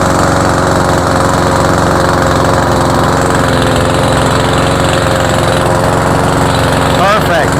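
A Cub Cadet lawnmower that had been smoking and would not drive runs loud and close with its drive working, its engine droning steadily with a rough vibrating tone throughout.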